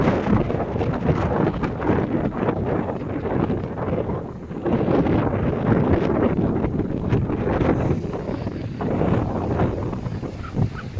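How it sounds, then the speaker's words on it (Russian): Strong storm waves roll onto a beach at Vityazevo, heard as a continuous, heavy roar of surf and buffeting wind across the microphone, with surges rising and falling and no voices. "Вот, волны набегают"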